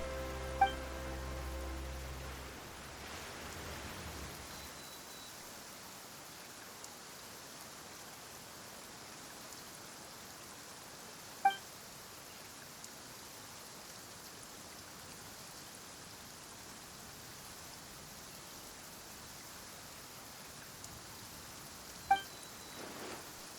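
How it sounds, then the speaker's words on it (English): Rain falls in the video game Genshin Impact as a steady, soft hiss that swells in after a few seconds and holds evenly, with a few faint isolated ticks over it. "Why is it raining all of a sudden?"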